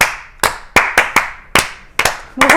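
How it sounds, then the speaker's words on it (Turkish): A few people clapping in a home setting, a handful of sharp separate claps in an uneven rhythm, close and loud with no talk over them. "Burada bir alkış"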